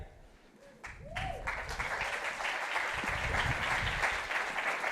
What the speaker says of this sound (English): a round of applause for Farai